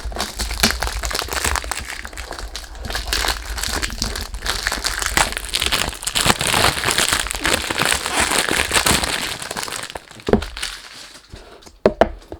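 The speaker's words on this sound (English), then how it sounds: "let's do the unboxing. Sorry about the noise." A thick cardboard perfume box for a 100 ml extrait de parfum is unwrapped and opened up close, with loud, continuous crinkling and crackling of packaging and a few sharp cracks near the end.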